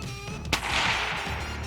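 A single sharp gunshot fired at an armadillo shell in a bullet deflection test, a brief loud crack over steady outdoor background noise.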